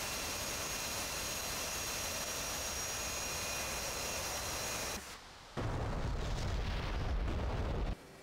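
In the flight simulator DCS World, a loud, sustained roaring rumble of an AGM-65E Maverick missile fired from an F/A-18, cutting out briefly, then a heavy booming impact blast swells before ending abruptly.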